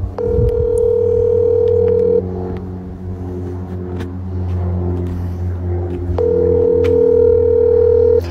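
A phone dial tone rings twice, each steady tone lasting about two seconds with a pause between, heard over the low rumble of a car interior from a phone call placed while riding.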